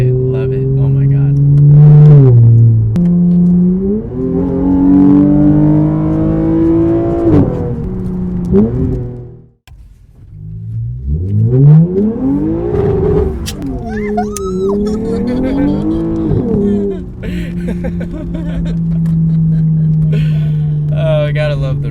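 A manual-transmission Toyota Supra accelerates at full throttle, its engine note climbing and dropping through gear changes with a brief dip between pulls, loud and close from inside the car.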